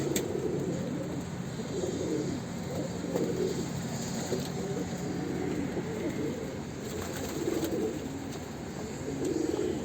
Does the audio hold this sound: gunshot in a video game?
no